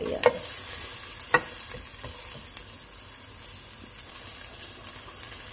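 A spoon stirs softened pig feet with their broth in a cooking pot, giving a low bubbling simmer with a few soft clinks and scrapes, fairly quiet and without talk.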